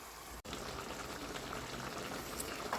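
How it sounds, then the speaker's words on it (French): Lamb stew simmers gently in a pot, a steady close bubbling hiss running throughout with one brief dropout near the start and no voices. "je vais encore laisser légèrement mijoter."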